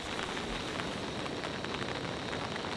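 Light rain patters steadily on a camping tarp, a continuous soft, even hiss with no voices.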